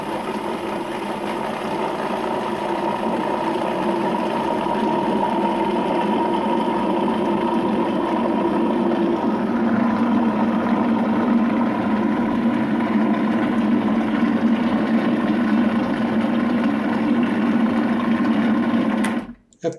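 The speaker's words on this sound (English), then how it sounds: "we're going to get our whipping cream, and we're going to use the tube and just run the machine" A Cuisinart 14-cup food processor runs steadily while whipping cream is added through the feed tube, giving a loud, continuous motor whir that deepens in tone partway through and then cuts off abruptly.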